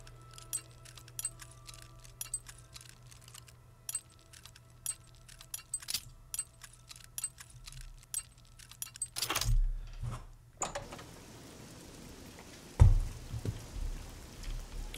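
Lock picking on a door lock in the video game Oblivion produces rapid light metallic clicks and ticks in the first part, followed by a sharper click and scrape, then a dull thud, all close and faint with no talking.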